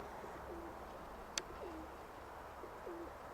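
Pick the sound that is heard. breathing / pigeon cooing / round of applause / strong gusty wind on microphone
pigeon cooing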